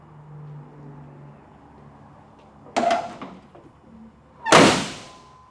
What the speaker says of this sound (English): Tailgate shuts nice, it's not loose at all, so it won't rattle